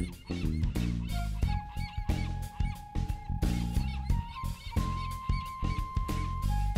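Animated doves cry out in distress in a children's story, their honking, fowl-like calls scattered across a busy, music-like backdrop of sustained tones and rhythmic hits, loud and close throughout.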